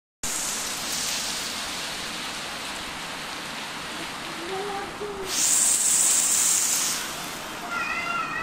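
Continuous drizzling rain hisses steadily outdoors after a storm, with a cat meowing a few times over the downpour.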